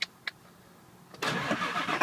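A car engine cranks and catches, settling into a steady, loud running rumble after two brief clicks in near silence.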